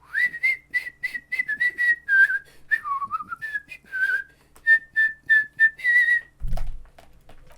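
Two characters whistle together by the seaside in Disco Elysium, one voice answering with a higher, more melodic trill; a string of clear, close whistled notes and short phrases, rising and dipping, with a brief low thump at the end.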